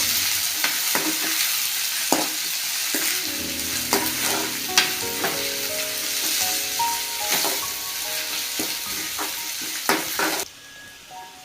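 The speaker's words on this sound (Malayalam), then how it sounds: "ഇഞ്ചി വെളുത്തുള്ളി പേസ്റ്റ്, 2 സവോള കനിമുറച്ചെണ്ണ, ഇത്ര സാധനം ഇട്ട് കൊടുത്തിട്ട് അതിൻ്റെ പച്ചമണം മാറുന്നവരേക്കും ഇളക്കി കൊണ്ടിരിക്കണം." Ginger-garlic paste and sliced onions frying in oil for a Kerala-style duck roast, a loud close sizzle broken by sharp scraping stirs of the spatula, ending abruptly near the end as the sound drops away.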